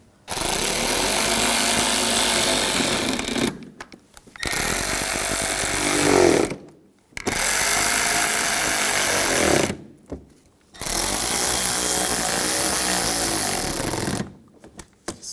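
A power tool drives bumper bracket screws on a Volkswagen Jetta in four long, loud, buzzing bursts of about three seconds each, separated by short silences.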